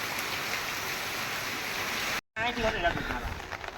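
Heavy village rain with runoff water rushing and flowing, a steady loud wash of noise that briefly cuts out, then returns with a voice speaking over it.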